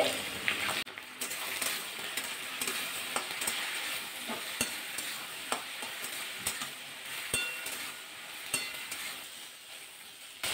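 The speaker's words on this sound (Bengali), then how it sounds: "এর মধ্যে দিয়ে দেবো লবণ দিয়ে ভাজা করে নেবো আলু দিয়ে ভেন্ডি দিয়ে" Potatoes and okra fry with salt in a pan, giving a steady close hiss with stirring scrapes and clicks throughout, no talking.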